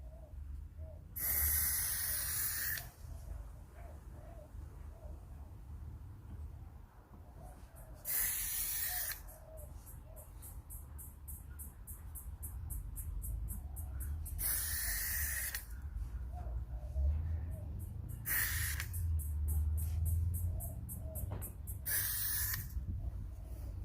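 Forcefield Protect spray coats a pair of shoes with the laces left in, delivered as five short aerosol hissing bursts of a couple of seconds each, close and alone, with quiet gaps between them.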